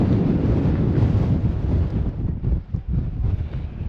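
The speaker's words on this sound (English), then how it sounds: "It's very windy." Heavy wind on the climb to Cairngorm summit in Scotland roars and buffets against the microphone continuously, a deep rumbling gust with brief dips in strength.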